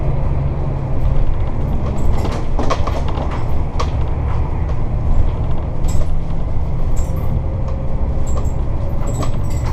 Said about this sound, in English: some of the noise and the shaking you're going to see, for example, like that, we're actually just going over a few speed bumps